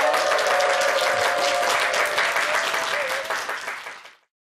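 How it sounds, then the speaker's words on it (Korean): A studio audience on a Korean morning TV talk show applauds a guest oriental medicine doctor, loud and sustained, then fading out quickly at the end. "김호곤 한의사께 감사의 박수 부탁드리겠습니다"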